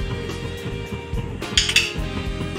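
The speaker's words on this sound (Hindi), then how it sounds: "इसको भी अच्छी तरीके से भून लेंगे।" Whole coriander, cloves, black pepper and cardamom dry-roast in a pan, heard as clinking of metal utensils and the rattle of spices being stirred, close and moderately loud, with no talking.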